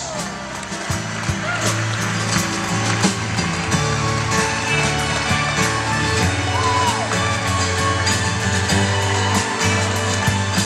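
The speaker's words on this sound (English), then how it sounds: "big round of applause now for our dancers." A theatre audience at the final performance of a stage musical applauds and cheers for the dancers, a dense, steady wash of clapping and shouts under a sustained musical tone throughout.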